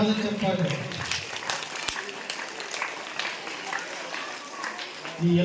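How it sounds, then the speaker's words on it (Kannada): A school audience at Rukmangada school breaks into steady applause after a classroom chemistry demonstration, a dense and fairly distant patter of many hands lasting several seconds, with a voice speaking near the end. "ಜೋರಾದ ಚಪ್ಪಾಳೆ"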